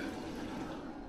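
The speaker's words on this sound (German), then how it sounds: "Es kommt Wasser." Water begins flowing from an irrigation hose, a steady close rushing hiss that holds evenly throughout the short moment.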